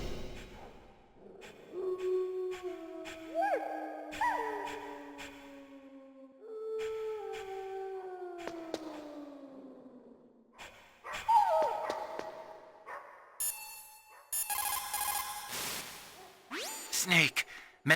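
Dogs in Metal Gear Solid bark, yip and whimper in a series of whining, sliding cries and short yelps, some close and some brief, spread across a quiet background with separate sharp bursts near the end.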